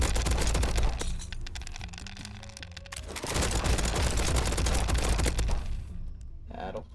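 An SMG fires in Diceomancer, a dense crackling burst of rapid shots and impacts that pauses briefly and then roars back louder.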